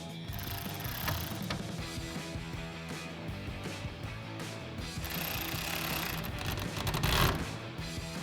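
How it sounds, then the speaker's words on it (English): A hand ratchet with a 13mm socket snugs a clamp on a folding tonneau cover on a Toyota Tundra truck bed, giving a busy, continuous mechanical clicking and grinding close by with faint background hum. "We're going to go ahead and snug that down with a 13mm socket on our ratchet."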